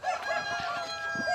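Local breed chickens on a farm cluck and call loudly and close together, with a rooster-like crow standing out over dense overlapping fowl noise.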